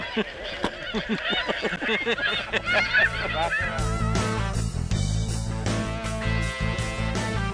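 A large flock of snow geese on a hunt honks in a dense, overlapping chorus of repeated nasal calls, loud and close, over a steady low rumble that builds in the second half.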